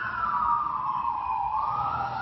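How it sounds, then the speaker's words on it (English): An emergency-vehicle siren wails continuously, its pitch sliding slowly down and then back up, loud and steady throughout with no voices. "Hear that siren?"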